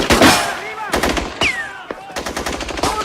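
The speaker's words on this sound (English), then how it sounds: "Alina, you've seen the shooting. It is still going on" Dense machine-gun and rifle fire crackles through a chaotic film battle scene, loud and close in repeated bursts, with shouting voices and a sliding whistle-like tone mixed in.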